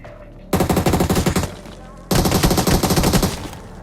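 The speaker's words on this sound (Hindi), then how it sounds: "अब भाई ये पूरा बाटली फेंकने के बाद गोली भी चलाता है" Bursts of automatic gunfire from a BGMI / PUBG Mobile battle: a rapid volley of shots lasting about a second, a short pause, then a second sustained loud burst, close and dominant with no talk.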